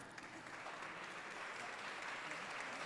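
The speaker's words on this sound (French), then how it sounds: "Donc vous pouvez vous applaudir effectivement." Sustained applause from an audience at a French tourism awards ceremony, a dense, steady patter of many hands clapping throughout with no voices over it.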